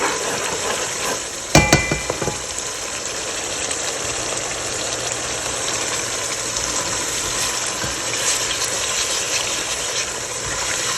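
Tomatoes and spices fry in a karahi with a steady broad sizzle, a brief clatter of stirring near the start, then continuous frying hiss with no voices.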